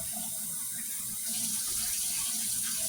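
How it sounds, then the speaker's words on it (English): Water poured into a pan of cooking steak and rice gives a steady pouring and sizzling wash that grows a little louder partway through, continuous and close with no talk. "get you 1 more cup of water and pour just a little bit of water in your"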